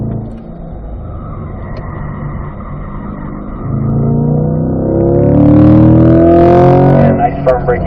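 A Corvette C8 on a race track brakes hard and then accelerates smoothly, its engine note rising loud and close while an instructor talks over it.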